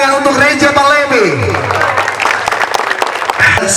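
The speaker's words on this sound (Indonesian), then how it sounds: "Saya minta kepada seluruh masyarakat Aceh berikan tepuk tangan untuk Reja Palevi." A crowd at a national motorcycle racing championship podium ceremony claps loudly, and the applause swells under an announcer's amplified voice.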